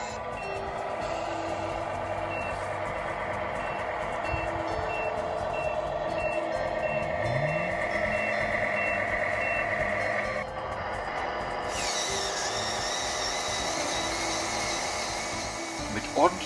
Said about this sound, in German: Das mechanische Geräusch des Spindelantriebs, der einwandfrei seinen Dienst verrichtet, ist natürlich nicht zu überhören.